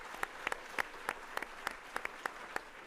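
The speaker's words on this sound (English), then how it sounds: "A round of applause for our winning bidder here tonight." Light applause from an audience at an evening charity auction, a brief spatter of separate claps, fairly quiet and distant.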